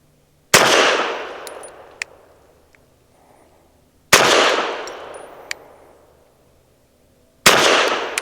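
Three sharp pistol shots from a Ranger Arms RA9 firing subsonic 165 grain rounds, spaced a few seconds apart, each a loud crack with a decaying tail, plus small metallic clinks between shots.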